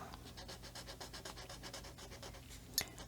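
Chisel-tip marker colouring on paper, a quiet rhythmic rubbing of quick back-and-forth strokes with a small click near the end.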